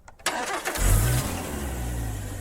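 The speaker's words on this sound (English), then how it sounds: "earlier on, I tried this with a car starting." An AI-generated car engine start: a short cranking burst catches into a loud, steady rumbling idle that holds for a couple of seconds before cutting off abruptly, with no voices.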